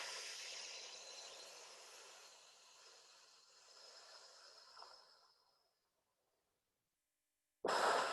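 A long, slow exhale through pursed lips hisses softly and steadily, fading out over several seconds into silence before a brief, louder breathy rush cuts in at the end.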